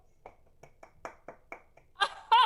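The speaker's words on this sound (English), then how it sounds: "Applause." Sparse, separate handclaps from an audience in a radio drama, each a short sharp burst, ending in a louder rush of sound.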